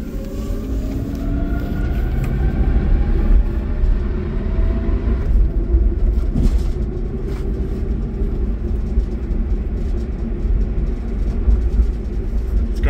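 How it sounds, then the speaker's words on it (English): An old Mopar car driving along, heard as a steady low engine and road rumble from inside the vehicle, continuous and moderately loud with no one talking. "I love driving old Mopars."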